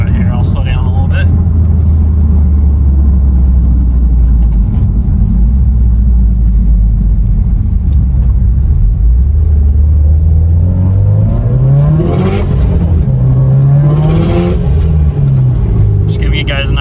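A modified car running a base tune accelerates, its engine droning low and steady before rising in pitch through revs, with intake noise and a wastegate audible, loud and close throughout.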